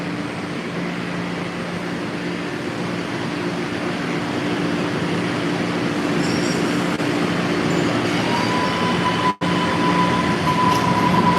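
A Green Line train runs along the tracks, a loud continuous rumble with low mechanical hum, a faint high wheel squeal joining late and one brief sharp dropout near the end.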